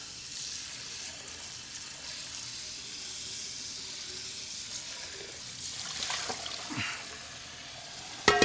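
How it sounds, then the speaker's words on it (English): Water runs into a hot pan over a steady hiss and sizzle in a home kitchen, with a couple of brief clinks and a sharper clatter at the end. "we're going to rinse out the pan"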